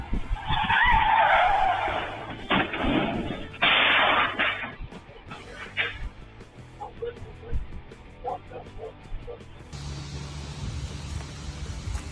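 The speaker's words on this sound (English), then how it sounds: "An out-of-control semi-truck barrels down the roadway, violently slamming into an oncoming vehicle in front of horrified witnesses." An out-of-control semi-truck skids hard and slams into an oncoming vehicle on a roadway, a loud tire screech followed by heavy impact bursts, then quieter scattered crash debris and background noise.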